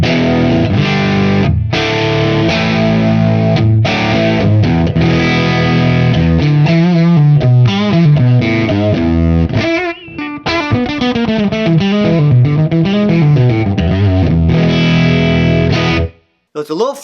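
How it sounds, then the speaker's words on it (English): An electric guitar plays through a maxed-out Fender Deluxe Reverb reissue amp, heavily distorted and loud, with chords and riffs ringing loosely and a flubby low end before cutting off near the end. "the deluxe reverb is maxed out now"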